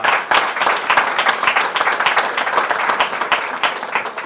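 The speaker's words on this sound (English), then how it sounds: "yes, that deserves a round of applause." Audience applause at a press event on Camden enrollment, a loud continuous wash of clapping with distinct individual claps standing out throughout, no talk over it.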